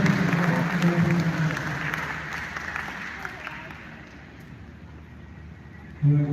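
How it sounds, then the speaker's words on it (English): Applause from a large audience at a live event in Ghana starts strongly and gradually thins out over several seconds, mixed with crowd noise and a voice breaking in at the end. "Let's give him another round of applause"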